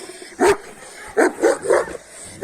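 Several dogs barking on a farm, a handful of sharp barks spaced irregularly over a low background, moderately close and loud.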